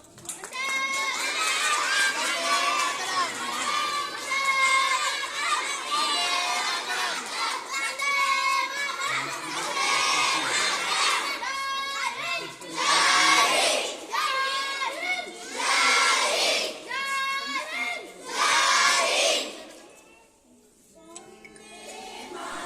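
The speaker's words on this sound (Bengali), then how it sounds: "বন্দে মাতারাম স্লোগান দিচ্ছে এখানে" Schoolchildren and teachers at a school event chant a slogan together in rhythmic bursts of young voices, loud and close with pauses between shouts, trailing off into quiet near the end.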